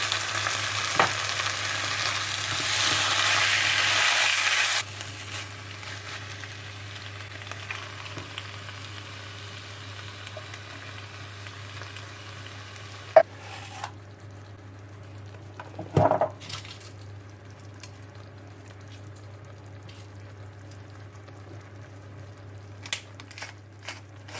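Bell peppers, onions and garlic sizzle steadily in a pan during home cooking of Basque-style chicken, with a louder burst of frying early on, then a quieter continuous hiss broken by a few clinks and stirring knocks.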